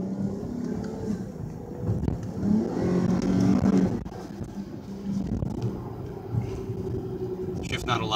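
A Dodge Charger GT's Pentastar 3.6 V6 engine revs and drones steadily, rising and falling in pitch, heard from inside the vehicle with a constant low rumble throughout.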